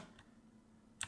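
Faint computer keyboard typing at a desk, a few soft isolated key clicks with a sharper cluster of taps near the end, quiet and close with no speech.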